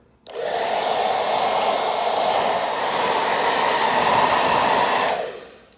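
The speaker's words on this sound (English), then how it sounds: "I also take the hair dryer to the beeswax just a little bit" A hair dryer switches on and blows with a steady, loud whooshing hum for about five seconds before cutting off, warming beeswax on a leather boot.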